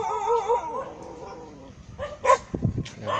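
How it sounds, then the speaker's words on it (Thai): Small dog in a park gives a few sharp yips and whimpers near the end after a quieter stretch, followed by scuffling as it runs off. "มาแล้วสุนัขตกใจครับวิ่งไปสุนัขตกใจ"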